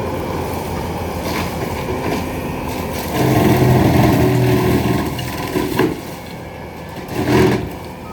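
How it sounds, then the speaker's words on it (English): Diamond mower clearing a city lot, a loud, continuous engine rumble with rough churning that swells and falls as it works, heard alone and up close. "That thing rips. That's a Diamond mower. She rips."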